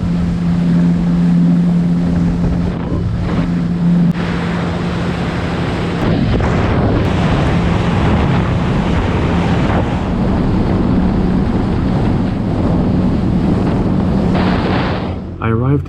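A jet ski crosses open Lake Michigan, its engine a steady loud drone mixed with heavy wind rush and water spray, continuous and close throughout with no talking.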